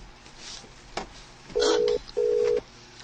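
A cellphone rings in two steady electronic tone bursts separated by a short gap, loud and close, after a few faint knocks and handling sounds.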